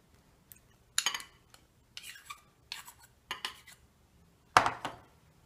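A utensil stirs MRE meatballs in marinara sauce inside a pouch or dish, making a handful of soft scrapes and light clinks spaced out over a few seconds, close and quiet with no voices.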